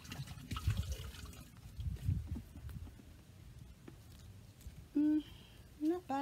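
Water runs and trickles inside a bathtub, draining toward the back in a steady, fairly faint flow, with brief voices near the end.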